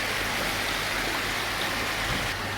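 Water rushing through the degasser and biofilter of a recirculating sturgeon fish farm system, a steady, dense splashing hiss with a low machinery hum beneath, continuous and fairly close.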